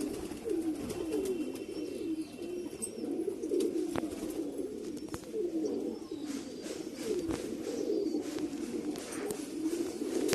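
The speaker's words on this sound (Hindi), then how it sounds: "ये बहुत खूबसूरत कबूतर है" Pigeon cooing in repeated soft, low rolling phrases, fairly close and steady, with no talk over it.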